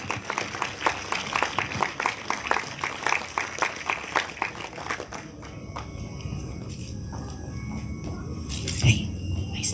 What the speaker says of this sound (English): would you guys give them a round of applause as they come to the stage?